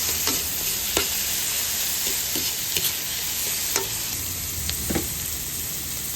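Vegetables sautéing in a pan for pansit canton, a close, steady sizzle broken by regular clacks and scrapes of a utensil stirring, with no voices.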